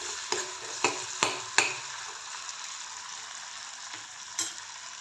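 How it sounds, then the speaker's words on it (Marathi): Tomato sautés in oil in a pan under a soft, continuous sizzle, broken by several sharp spatula taps and scrapes against the pan. "टोमॅटो पण चांगल्या प्रकारे तेलामध्ये परतून घ्यायचं"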